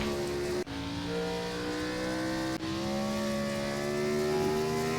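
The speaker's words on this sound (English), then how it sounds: "Wheel spin." A NASCAR Gen 4 race car engine in the iRacing video game at Sonoma, revving with rising pitch as the wheels spin, loud and continuous with two brief dips from gear shifts, no talking.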